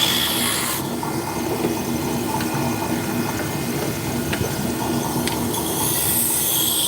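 Steady rasping of sandpaper rubbing back and forth on wood, close and continuous, with a few faint clicks.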